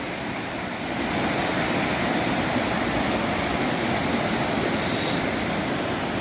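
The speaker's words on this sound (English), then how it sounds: "Got another monster waterfall over here." Another large waterfall at Ricketts Glen State Park gives a constant, full rushing roar that swells slightly after the first second and stays loud and unbroken.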